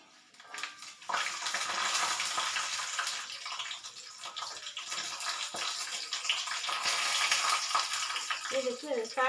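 Curry leaves hit hot oil in a frying pan for a Tamil cabbage poriyal, bursting into a loud, steady crackling sizzle that holds for several seconds after a quieter start.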